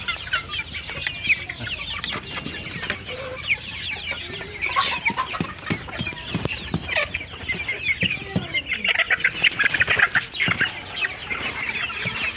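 Local chickens on a poultry farm in Barpeta, Assam cluck and chatter continuously, many birds overlapping near and far in a busy, uneven clamor without talk.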